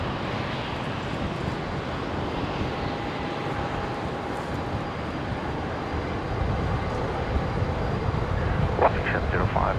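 An aircraft taking off from Brisbane International Airport, a broad, steady engine roar that swells slightly toward the end, with a voice talking over it.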